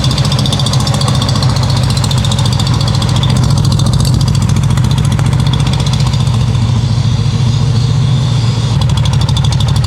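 A 1970 VW Beetle with a 1915cc dual-carb engine, timing advanced and carbs out of sync, runs steadily and loud with a lumpy, throbbing idle and close knocking pulses, no voices over it.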